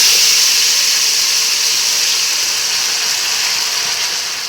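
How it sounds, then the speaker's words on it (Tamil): Ground chutney hitting hot oil tempered with curry leaves, a loud steady hiss of sizzling that fades slowly over several seconds. "அதுக்கப்புறம் நம்ம அரைச்சி வச்ச சட்னியை ஊற்றிடலாம்"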